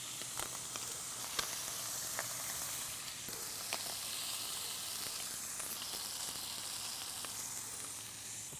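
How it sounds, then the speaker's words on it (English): Streaky bacon sizzles steadily in a hot pan on a small gas stove, a continuous even frying hiss with occasional faint pops and clicks. "nice and hot, so we'll chuck in our streaky bacon."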